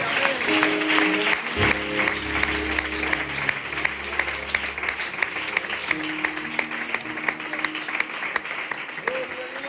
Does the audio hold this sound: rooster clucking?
no